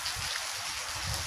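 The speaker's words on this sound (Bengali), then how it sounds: "মোটামুটি ভালোই বৃষ্টি হইতেছে" Moderate rain falls steadily on a cold, windy day, a continuous even hiss of drops with no voices.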